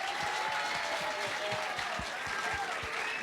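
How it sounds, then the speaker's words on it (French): Audience at a school slam poetry show clapping for a performer, a steady wash of applause with some crowd voices and a whistle mixed in. "Je vous demande d'applaudir Jaëlis."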